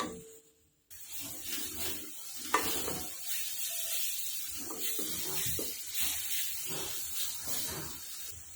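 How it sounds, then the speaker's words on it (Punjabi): Chopped tomatoes cook in a sizzling ghee tempering for a potato-tomato curry, a constant close hiss and crackle broken by repeated scraping stirs of a spoon against the pan. "ਟਮਾਟਰ ਨਰਮ ਹੋਣ ਤੱਕ ਆਪਾਂ ਬਣਾਵਾਂਗੇ"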